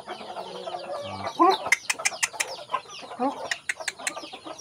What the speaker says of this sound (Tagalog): Iba namang klase ito ng manok.